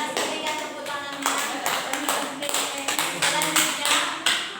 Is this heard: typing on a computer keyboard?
no